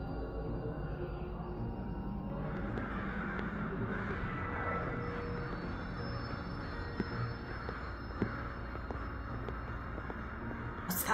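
Crows caw in the video game Suckle for Love 2, a few faint calls over a steady ambient background hum, with no talking.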